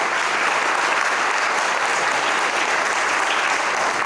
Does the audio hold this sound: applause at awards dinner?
yes